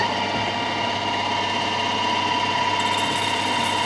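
A Stuart model steam engine runs steadily at 1,000 RPM, giving a dense, even mechanical chuffing and clatter that stays constant and close throughout with no talking.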